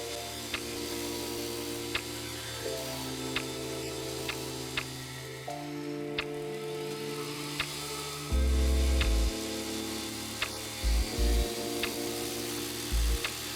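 A belt grinder runs with a small contact wheel grinding a fuller into a steel blade forged from leaf spring, a steady tonal motor whine shifting pitch, with sharp ticks and a few louder low bursts, close and continuous.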